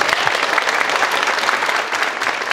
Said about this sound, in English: Can you give a round of applause to Jason?